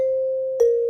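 A rubber-tip mallet strikes a tuned mallet percussion bar twice, each hit a clear ringing tone with a sharp attack, the second strike slightly louder and close.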